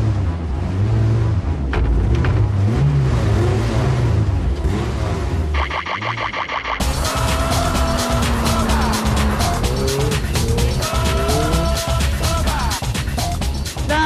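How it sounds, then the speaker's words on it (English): Ariel Atom, a lightweight open car with a supercharged Honda Civic Type R engine making 300 horsepower, driving hard: loud engine revs rising and falling through gear changes, with tyre squeal, all close and continuous with no talk. "bolting a supercharger onto a Honda Civic Type R engine, they've managed to make 300 horsepower."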